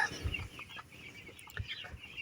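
Soft, low clucking from broiler chickens under treatment for enteritis, a few scattered clucks at moderate distance with quiet background hum between them.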